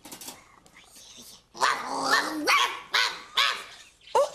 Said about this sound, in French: un petit chien qui jappe